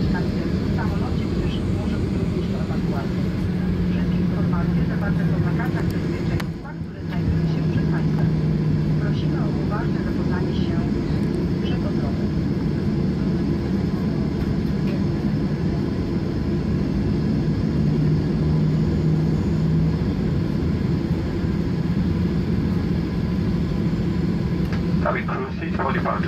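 Steady, droning cabin noise aboard a Ryanair airplane flying from Warsaw Okęcie to Wrocław, a constant low rumble with voices murmuring faintly underneath.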